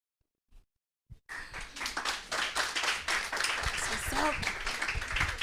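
A couple of isolated claps, then a burst of sustained applause from a crowd, loud and continuous, with voices and cheers mixed in.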